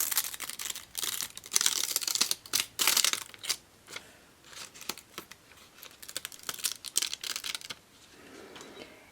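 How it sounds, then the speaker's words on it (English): Adhesive backing being peeled off a die-cut sticky-dots transfer adhesive sheet gives close, dry crackling and tearing bursts in uneven spurts, loud in places and easing toward the end, with no talk. "And then you just peel it off."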